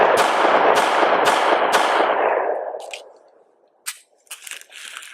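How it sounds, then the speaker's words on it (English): Four sharp pistol shots from a Taurus GX4 fire in quick, evenly spaced succession, loud and close, each ringing out into a long echo that fades; a few faint clicks follow. "let's continue shooting"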